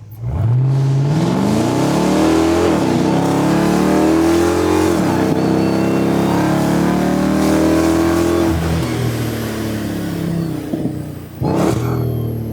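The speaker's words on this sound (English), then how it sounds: "I just want you to note how quickly it's shifting" A 924-horsepower Dodge Hellcat Charger with a Demon package accelerates hard, the loud engine roar climbing and dropping through several quick gear shifts, heard from inside the car.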